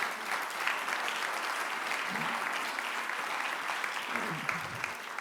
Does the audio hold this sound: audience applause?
yes